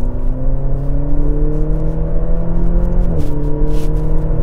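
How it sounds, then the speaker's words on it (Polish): A Maserati Grecale with a 2-litre engine growls at a steady droning pitch, close and loud. The note dips briefly at a gear change, followed by a short burst of crackling exhaust pops. "a tutaj naprawdę ten taki pomruk, ten fajne takie pierdnięcie z wydechu tak. w momencie, kiedy zmieniasz bieg"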